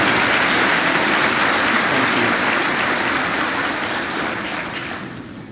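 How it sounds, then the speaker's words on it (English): A large audience at a high school graduation claps in a full, steady round of applause for school board members that slowly thins out toward the close. "Give them a round of applause."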